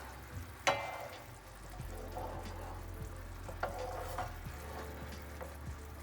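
Chicken adobo simmers in a pan while being mixed, a faint low sizzle with a few sharp scraping and clinking stirs at irregular intervals.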